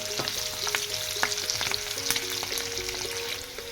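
Onions frying in a pan for sambhar give a soft continuous sizzle with occasional scraping stirs, heard close and fairly quiet over faint background music.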